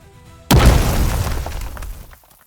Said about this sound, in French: une explosion secoua le couloir avec une violence inouïe